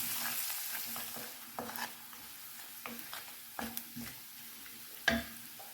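Chopped onions with a pinch of salt fry in a pan for green moong dal, a soft steady sizzle broken by several sharp scrapes and clinks of stirring spread through the passage.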